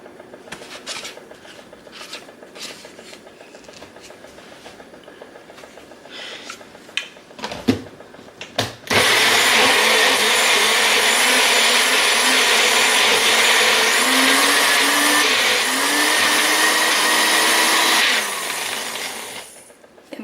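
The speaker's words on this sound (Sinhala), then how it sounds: "දැන් මම මගේ බ්ලෙන්ඩර් කප් එක පාවිච්චි කරලා මේක බ්ලෙන්ඩ් කරගන්නවා." Blender cup whirring through banana cupcake batter, starting with a few clicks and handling knocks, then a loud steady motor roar that runs about ten seconds before it winds down.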